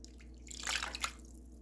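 Water from a can splashes and trickles into a slow cooker for about a second, a soft, close pour that swells and fades, with no talk.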